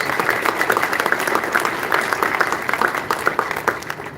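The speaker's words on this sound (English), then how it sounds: "Big round of applause for our employees." Dense audience applause for employees at a Twin River event, sustained rapid clapping from a sizable crowd that holds steady for several seconds before tapering slightly at the end.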